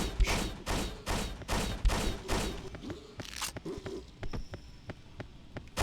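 Shotgun blasts in the video game Hunter: The Reckoning ring out as a rapid, regular volley of loud booms, then thin into scattered, quieter single shots.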